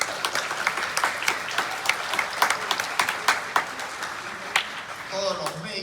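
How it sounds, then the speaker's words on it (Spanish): A crowd claps in steady applause, many hands at once with sharp individual claps standing out, fading slightly near the end. "Un aplauso para el doctor Ruiz."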